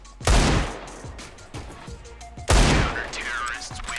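Two heavy gunfire bursts ring out in a shooter video game, each a sharp loud blast with a decaying tail, the second about two seconds after the first, with low game ambience between.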